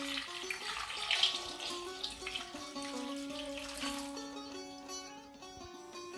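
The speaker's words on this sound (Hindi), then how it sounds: "और 3 गिलास पानी डाल दें।" Water poured from a glass into a cooking pot holding cinnamon and green cardamom for Ottoman sherbet: a close, gurgling, splashing pour with ringing tonal resonance, tapering toward the end.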